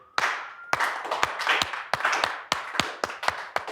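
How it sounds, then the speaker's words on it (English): A small audience doing a slow clap: sharp, loud, unison hand claps spaced roughly every third of a second to half second, somewhat uneven, with a hum of voices and scattered extra claps between beats. "Slow clap, everybody."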